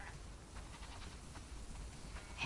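Sheep bleat faintly in The Last of Us Part 2, brief wavering calls rising now and then over a steady, quiet ambient rumble.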